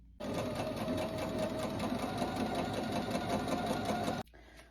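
A sewing machine stitching a dress runs steadily at high speed with a dense, even mechanical whir, starting abruptly and stopping sharply near the end, close and loud.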